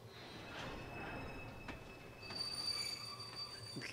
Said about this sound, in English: Is my train leaving?